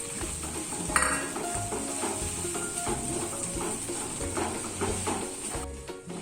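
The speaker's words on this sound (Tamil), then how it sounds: "தேங்காய் சேர்த்து கொஞ்சமாக வதக்குனா போதும்" Grated coconut sautéing in a pan with softened ginger and garlic for an egg curry, giving a steady low sizzle with scraping and light clinks of a spoon against the pan throughout.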